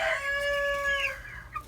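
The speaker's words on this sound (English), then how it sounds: "I put the other 2 ducks with our younger chickens" A young chicken, penned with others and a pair of ducklings, gives one clear, drawn-out call lasting about a second, close and loud, followed by a brief softer chirp.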